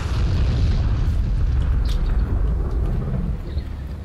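A Panzerfaust blast in the WWII shooter Heroes and Generals: a heavy, close explosion with a rolling low rumble that fills the whole stretch and slowly thins toward the end, with no voices.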